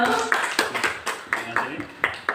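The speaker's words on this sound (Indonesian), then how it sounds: "kasih tepuk tangan untuk Pak Yenal" A few people in a small group at a school teacher-training session clap for Pak Yenal in a sparse, uneven series of sharp claps, close and moderately loud, with voices underneath.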